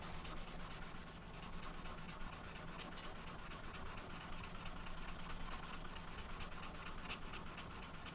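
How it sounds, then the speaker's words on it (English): Rapid back-and-forth rubbing of 320 grit sandpaper on a metal knife blade, a steady, fine scratchy hiss that runs continuously for several seconds, close and quiet. "And some 320 grit sandpaper to clean that up."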